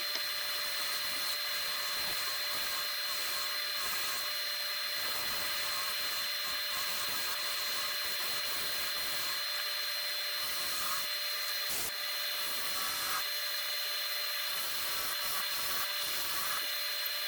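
A woodturning gouge cuts into spinning wood on a lathe with a steady, faint scraping rasp under the constant whine and hum of the machine, with occasional sharper catches.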